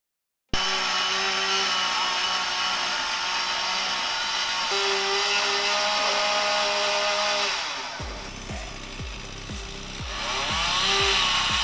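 A chainsaw cuts into a tree with a loud, sustained high-pitched whine. Late on the pitch drops and the sound turns choppy under load, then climbs back to a full roar.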